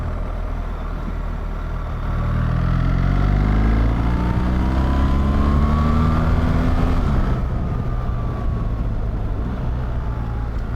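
A BMW R1300GS ASA motorcycle with an automatic gearbox riding on the road, steady close engine drone with a shift in pitch as it changes down a gear, under wind rumble and no talk.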